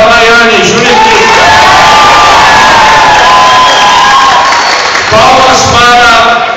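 A crowd at a Star Wars fan convention cheers and claps loudly for a contestant in a women's cosplay costume contest. High-pitched shouts and whoops come from the audience, the roar holds steady across the whole moment, and an announcer's voice carries over it.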